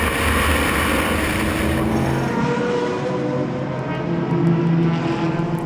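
Lotus and BMW M3 race cars battle on board at Spa-Francorchamps in a Supercar Challenge race, a loud continuous engine roar with a pitch shift midway under heavy wind.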